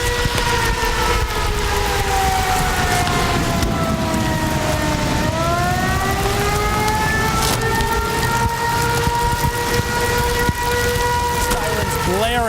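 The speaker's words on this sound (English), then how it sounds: "take a listen to what it sounded like when we had that storm coming through" Siren wailing steadily through a storm over downtown Nashville at rush hour, its rising and falling tone loud and continuous over dense rain and traffic noise for the whole stretch.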